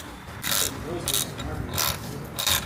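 Bolts are tightened by hand on an old Mustang GT left abandoned in a field: close, repeated bursts of ratcheting clicks in an uneven rhythm against steady background noise.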